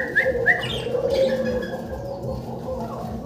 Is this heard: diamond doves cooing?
yes